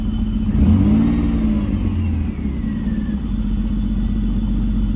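A BMW engine idles and runs after a misfire repair, a loud, steady mid-pitched rumble with a brief rise in revs near the start before settling into an even drone.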